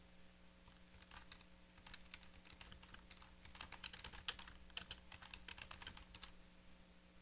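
Steady typing on a computer keyboard while entering a company name into a word-processing document, with quick irregular key clicks over a constant low electrical hum, fairly quiet and close, with no voices.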